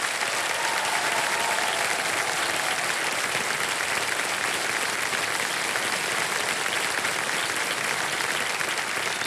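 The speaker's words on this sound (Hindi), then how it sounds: "ताली बजते रहे" Sustained, dense studio audience applause at a Hindi quiz show, a steady loud wash of clapping filling the whole stretch without pause.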